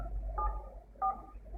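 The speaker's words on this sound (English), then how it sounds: "I'm just going to dial this number and see if it's going to ring" A Yealink VoIP desk phone gives two short touch-tone dialing beeps, each a brief dual-tone keypress, clear and close in a quiet room with no talking.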